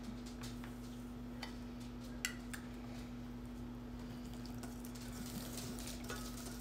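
A spoon stirs evaporated milk into thick homemade pumpkin pie filling, making soft, quiet scraping and wet swishing with a few light clicks against the bowl, over a steady low kitchen hum.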